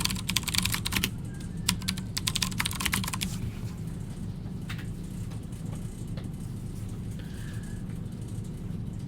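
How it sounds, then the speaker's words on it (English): Rapid clicking keystrokes on a computer keyboard come in bursts during the first few seconds, then thin to sparse taps over a steady low hum of background noise. "I'll let you finish typing it."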